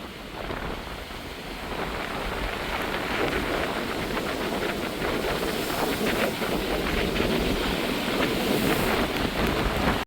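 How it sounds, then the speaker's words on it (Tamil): Stormy sea surf breaking on a beach during a cyclone, a loud, continuous roar of crashing waves with gusty wind noise buffeting the microphone throughout, and no voices. "கடலுக்கு கிட்ட போக கடல் அடிச்சு"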